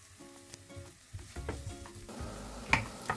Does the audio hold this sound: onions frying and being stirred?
yes